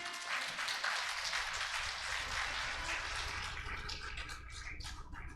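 A church congregation applauds together, a dense steady patter of many hands clapping at moderate distance that holds throughout and thins slightly toward the end, with no talk over it.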